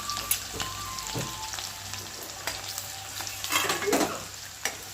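Onions, green chillies and seasoning seeds sizzle steadily in a hot pan while a spoon stirs them, scraping now and then, close up with no voices.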